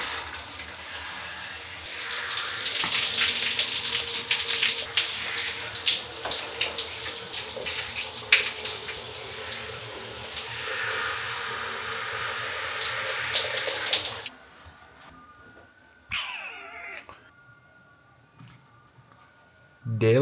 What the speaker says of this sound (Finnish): Sitten suihku.